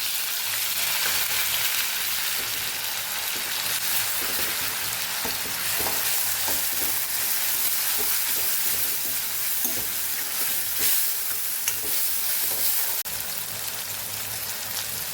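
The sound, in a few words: onion sautéing in a pan with ginger-chilli-garlic paste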